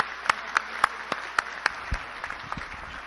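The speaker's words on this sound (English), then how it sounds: "ask all of you to give them one big applause for their contribution to health and to mankind" Scattered audience applause for award winners at the Premio Gusi Internacional ceremony: distinct, fairly evenly spaced claps stand out over a thin, steady clapping background that tapers off near the end.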